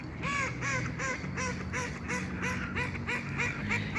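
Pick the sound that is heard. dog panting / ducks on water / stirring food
ducks on water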